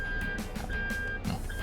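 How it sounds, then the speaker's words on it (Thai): A steady electronic reversing warning beeper in a 2023 Toyota Yaris Ativ sounds in repeated tones over a low engine rumble, slightly muffled and close by. "อันนี้คือเสียงสัญญาณถอยหลังนะครับ"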